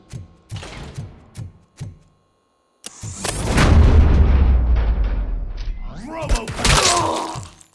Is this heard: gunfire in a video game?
yes